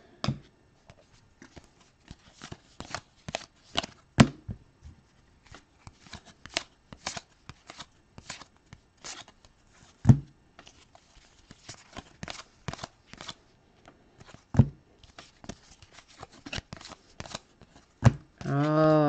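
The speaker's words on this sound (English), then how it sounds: "These turning of these cards is making me crazy." Basketball trading cards handled and flipped one after another during a live pack-break stream, a long run of crisp close card snaps and slides in quick irregular bursts, with occasional soft talk between them.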